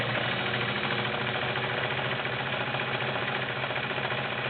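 Kenmore 1750 sewing machine running fast and continuously, a steady mechanical whir with rapid needle clatter, close and even throughout.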